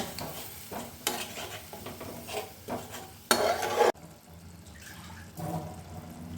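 Mustard and poppy seed paste added to a pan for Bengali egg curry is stirred, giving soft wet scraping and gentle sizzling close by, with a sudden louder burst of sputtering mid-way before it settles back to quiet bubbling.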